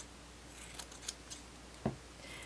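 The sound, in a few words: scissors cutting extra seam allowance on narwhal plush fabric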